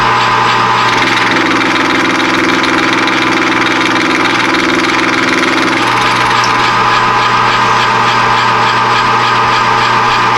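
Aluminum soft jaws being roughed out on a machine, a steady loud machining drone with a continuous motor hum and a higher cutting band that drops away about halfway through while the motor keeps running.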